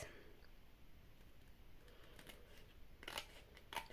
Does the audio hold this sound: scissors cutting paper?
yes